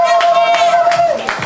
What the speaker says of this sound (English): Put your hands together for the real Randy O.